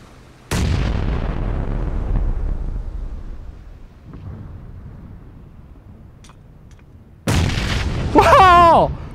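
Grenade explosions in the battle game PUBG: one loud boom that decays over several seconds, then a second sharp blast followed by a whistling, wavering tone near the end, with a commentator talking briefly.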